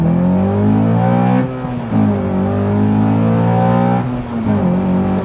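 A Honda Accord engine pulls hard up a motorway on-ramp, revving steadily and climbing in pitch through several smooth gear changes, loud and close from inside the car with no talking.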